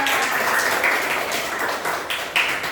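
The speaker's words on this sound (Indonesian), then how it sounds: "Tepuk tangan buat kita semua" Schoolchildren in a fifth-grade classroom clapping together, a dense steady patter of many hands close by, with a few louder bursts toward the end.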